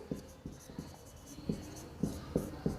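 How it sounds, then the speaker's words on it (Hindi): A pen writes a geometry proof by hand on paper, making soft, close scratching strokes in irregular short bursts, with no talking. "मैं लिखता हूँ"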